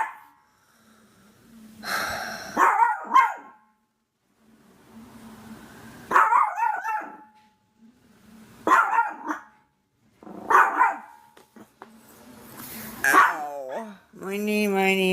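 A pet dog barks at a house door while fire department responders arrive, loud close bursts of barking in about five clustered bouts with whimpering and panting between them.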